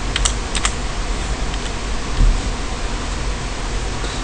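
Typing on a computer keyboard on an Ubuntu 14.04 Linux machine, a few quick key clicks at the start and then sparse taps over a steady broadband hiss.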